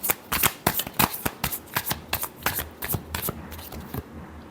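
A deck of playing cards shuffled by hand, a run of crisp riffling bursts and flicks in quick irregular succession, close and fairly quiet, with no talking.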